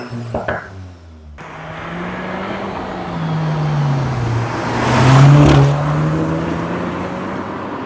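A VW Mk8 GTI fitted with a Milltek stainless steel OPF-back exhaust idles close by with a loud, steady tone, then revs repeatedly, the exhaust note rising and swelling to a peak before settling back toward a steady idle.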